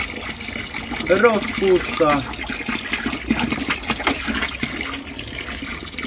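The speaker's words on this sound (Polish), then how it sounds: "Teraz doleję kolejne 5 litrów wody." Water poured into a tub of brine for smoking fish, the liquid gushing and splashing up close while someone talks over it.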